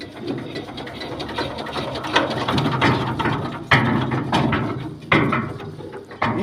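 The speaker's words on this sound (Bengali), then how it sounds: "স্টার্ট হয়ে যাচ্ছে সেই মেশিন আবার কিভাবে বন্ধ হয়ে যাচ্ছে" A machine engine is hand-cranked to start, giving a loud, close, continuous mechanical clatter with ratcheting clicks and several sharp knocks, with no talking.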